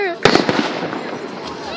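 Fireworks exploding at a gathering of friends, several sharp bursts in quick succession near the start, then a crackling decay; excited voices call out over the blasts.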